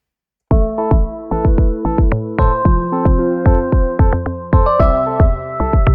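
A melodic Afro/Amapiano beat of plucked, sustained tonal notes plays in a steady rhythm with no drums or percussion, clear and alone.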